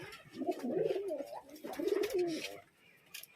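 Pigeons, high-flying kabutar kept in a loft in Murshidabad, coo in two soft rolling phrases nearby, with faint background noise between them.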